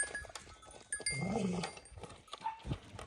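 A single sheep bleats close by in a short, wavering call, with scattered faint knocks and rustles around it.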